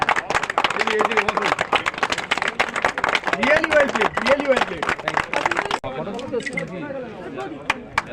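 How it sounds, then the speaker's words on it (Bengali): Applause at a cricket exhibition match prize giving between police and journalists: a crowd claps in a dense, steady burst for several seconds with voices over it, then thins out into scattered claps and chatter. "একটু জোরে করতালি হয়ে যায়"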